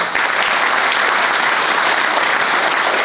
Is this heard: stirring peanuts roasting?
no